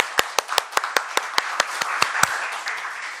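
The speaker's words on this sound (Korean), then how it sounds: "우리 세 분 부장님께 축하의 의미로 박수를 좀 한번 다시 더 부탁드리겠습니다." Committee members at a council meeting clap in a steady, rhythmic series of about a dozen sharp claps over a backdrop of wider, softer applause that trails off.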